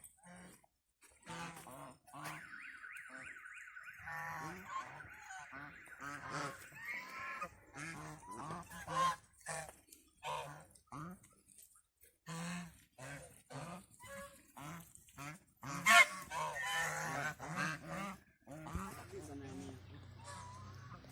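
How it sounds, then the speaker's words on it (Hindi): Ducks and geese honk repeatedly in a student zoo at Gomal University in Dera Ismail Khan, calls coming in bursts close by, mixed with people talking over and between them. "यहाँ तो बतखें नजर आ रही हैं।"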